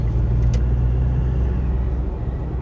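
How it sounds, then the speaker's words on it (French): Inside a Mitsubishi L200 pickup in heavy traffic, a loud, steady low rumble of road and engine noise fills the cabin, with no voices. "Oh, il y a trop de circulation."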